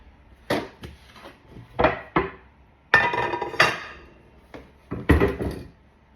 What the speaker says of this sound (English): let me move my cutting board to the side